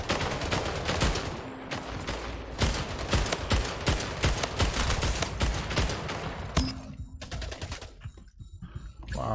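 Automatic gunfire during a Splitgate Oddball match, long loud bursts of rapid shots stacking over one another, a brief pause, then more fire and announcer-style game sounds near the end.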